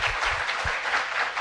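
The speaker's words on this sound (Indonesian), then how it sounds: "jangan tepuk tangan dulu" Studio audience applause on an Indonesian talk show, a steady dense patter of many hands clapping close by without pause, no speech.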